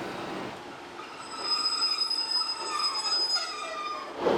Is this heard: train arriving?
yes